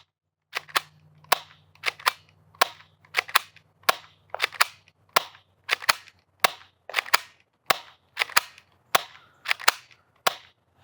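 A spring-powered gel blaster fires at a target about 35 feet away, giving a sharp snapping crack roughly every half second to second. About fifteen evenly spaced shots are heard, each alone and fairly close, with a low mechanical hum under the first few.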